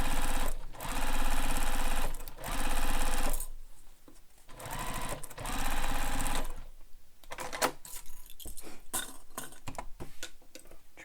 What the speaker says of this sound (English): I will sew this using the seam allowance given in the pattern.